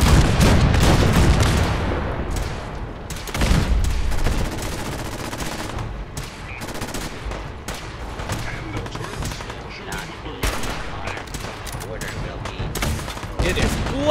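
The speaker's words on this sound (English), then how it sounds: "Firing the cannons!" Cannons fire in the Fallout 4 video game, a series of heavy booms and rattling gunfire bursts, loud and close, with someone talking over the shooting.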